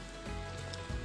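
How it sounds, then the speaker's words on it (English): Steady rain falls outdoors in New Hampshire, a dense, soft patter on the ground that carries on evenly through a brief moment. "the rain is slacking off"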